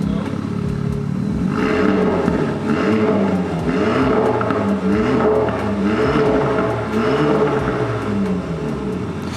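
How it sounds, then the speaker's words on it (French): A 2019 Renault Mégane IV RS engine revs steadily and loudly, its exhaust valves opening as revs rise, the rumbling exhaust rising and falling in repeated pulses, close by. "le régime moteur augmente et les valves s'ouvrent un petit peu"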